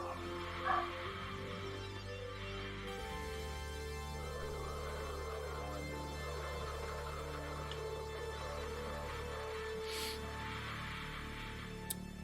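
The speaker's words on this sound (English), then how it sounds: "Sorry the dogs are barking." Dogs bark and yip in the background of a room filled with a constant electrical hum, the barks faint and somewhat distant, coming in scattered bursts.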